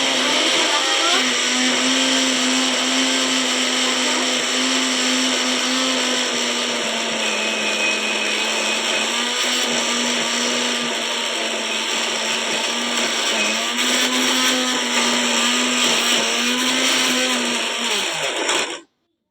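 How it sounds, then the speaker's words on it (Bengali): An electric mixer grinder grinds spices for a birthday-party meal, a loud steady whirring drone that runs close and unbroken for nearly twenty seconds before cutting off abruptly. "এর জন্য ওকে মিক্সি করতে পাঠিয়ে দিয়েছে।"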